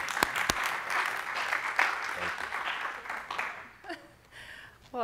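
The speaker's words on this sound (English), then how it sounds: "So welcome with a round of applause, Mrs. Taryn Deaton." An audience applauds at a community talk event, sustained clapping that carries on for several seconds and then thins out, with a few sharp claps and faint voices near the end.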